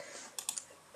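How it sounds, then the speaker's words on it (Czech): A few slow, separate keystrokes on a computer keyboard, close and soft, three or four clicks spaced out over a quiet room hiss. "jako teď vidíte, že píšu pomalu"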